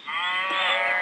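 A cow moos in a McDonald's video game, one sustained, clear, tonal bellow lasting about a second, close and alone with no talk over it.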